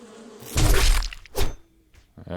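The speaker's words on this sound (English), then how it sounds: "I hear the bees up there." Bees buzzing in the survival video game 7 Days to Die, a loud buzzing swell near the start followed by a shorter burst and a faint late flare, with no talk over it.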